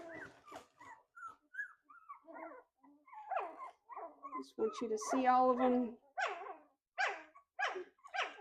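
Young puppies about three weeks old whimpering, yipping and letting out small barks in close, irregular bursts, with one longer whining cry in the middle and a person speaking softly over them.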